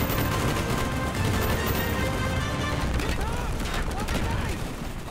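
Sustained machine gun fire and battle noise from the Call of Duty: Black Ops village firefight, loud and dense throughout, with shouting voices mixed in.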